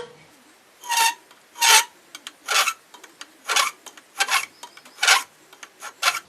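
Hand file cutting small-diameter tubing held in a vise, about nine rasping strokes in a steady back-and-forth rhythm, each a short, close, gritty scrape separated by brief quiet gaps.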